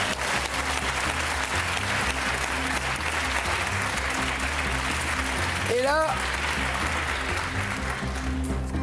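A studio audience on a French TV game show applauds steadily and loudly, with a brief whoop or whistle partway through.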